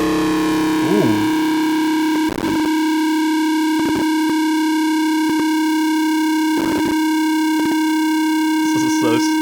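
A sustained synthetic drone with stacked ringing harmonics, produced by ten thousand reverb effects running at once, holds steady throughout while short broadband bursts and a warbling pitch sweep cut through at intervals.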